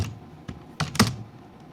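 Someone types C code on a computer keyboard, a few separate close key clicks and thumps, irregular and brief, between quiet pauses.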